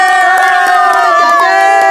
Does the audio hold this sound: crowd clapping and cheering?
yes